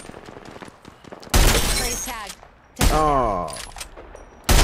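Gunfire in the game Apex Legends, with two loud sustained bursts of automatic fire followed by a third starting at the end, and a voice speaking briefly in between.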